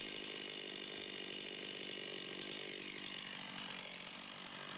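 A chainsaw cuts steadily into a tree trunk during felling, making an oblique notch cut halfway through the diameter past the heartwood. The engine sounds as a continuous, even, high-pitched whine throughout, close by, with no voices.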